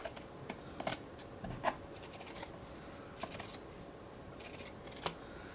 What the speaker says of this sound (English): Use the pinking shears.